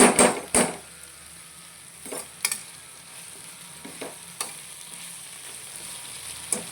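Bitter gourd curry fries in a pan with a soft constant sizzle, punctuated by several sharp scraping stirs of a spoon against the pan, the loudest near the start and scattered ones later.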